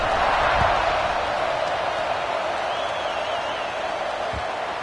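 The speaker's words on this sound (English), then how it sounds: "this crowd is buzzing after that last score" Football stadium crowd at an Ole Miss college game, a steady loud wash of buzzing chatter and murmur filling the whole span, with a couple of faint thuds and a thin distant whistle-like tone.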